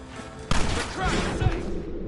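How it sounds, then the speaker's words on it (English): Gate-blowing charges go off in a Red Dead Redemption shootout, one sudden loud blast followed by rumbling debris and scattered thuds amid steady battle noise. "Blow that gate open."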